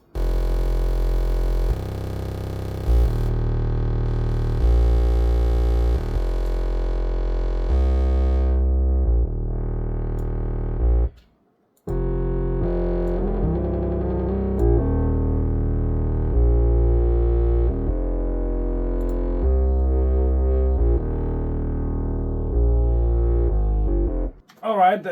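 A synthesized bass with a distortion crunch plays a seventh chord, sustaining thick, buzzy held notes and changing pitch in phrases, with a brief silent gap partway through before it resumes.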